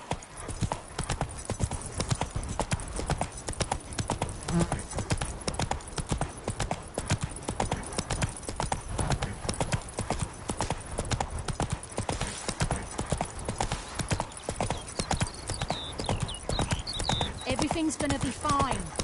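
A horse in The Witcher 3 trots steadily along a road, the rhythmic clip-clop of hooves continuous throughout, with a brief whinny and voices talking over it.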